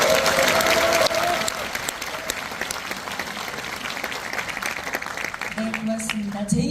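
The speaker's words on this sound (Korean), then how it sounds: "박수로 시작하겠습니다." Audience applause fills a concert hall at a peace concert marking the 100th anniversary of President Kim Dae-jung's birth. Loud, dense clapping runs throughout, with some voices and tones underneath.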